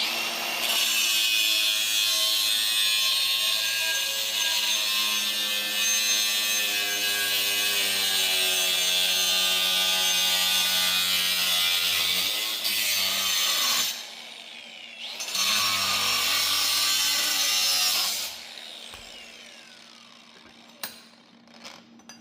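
A saw cuts through a 3-inch exhaust pipe on a 1971 Ford F-100, a continuous loud rasping grind for about eighteen seconds with a brief pause partway, then it stops and leaves near silence with a few small clicks.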